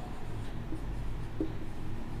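A pen scratches across paper in short soft strokes, close and quiet, with a couple of slightly firmer marks amid a low steady background hum.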